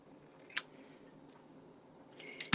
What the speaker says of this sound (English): let me just cut this down and trim it